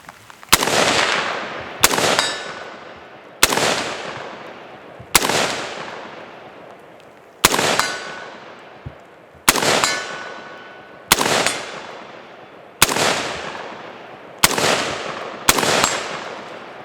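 Ten sharp rifle shots from an inexpensive PSA AR-15 carbine with a 16-inch barrel, fired outdoors at a 100-yard silhouette target, spaced about one to two seconds apart, each loud crack trailing off in a ringing decay.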